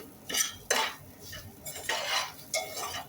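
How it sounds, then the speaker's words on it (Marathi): Rice and coconut stirred while roasting in ghee, with about five separate bursts of a spoon scraping and clinking against the pan, close and clear, with no talking. "आपण तांदळाबरोबर तुपात भाजून घेणार आहे"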